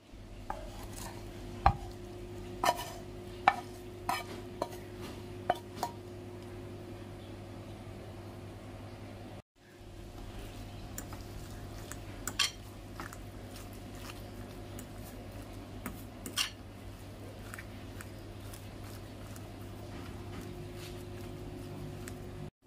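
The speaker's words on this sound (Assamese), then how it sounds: "আলুখিনিৰ লগত খুব ধুনিয়াকৈ মিক্স কৰি সানি লম" A boiled potato filling with fried ginger, garlic and onion is mixed by hand for aloo paratha, giving soft, quiet squishing and stirring with scattered light taps and clicks against a bowl, close by.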